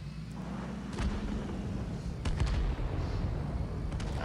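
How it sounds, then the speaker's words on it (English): Gunfire in the video game Knives Out, scattered distant-sounding shots and thuds over a low rumbling background, with a few sharper cracks. "Hey, someone's shooting at me."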